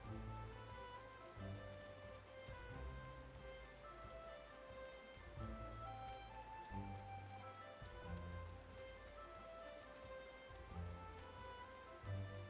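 Steady rain falls in a Final Fantasy video game, a constant patter on the ground throughout, moderately soft, with a low layered background underneath and no talk.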